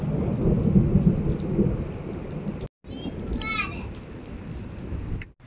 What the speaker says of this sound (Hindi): अब पानी देखते किस तरह बारिश हो रही है।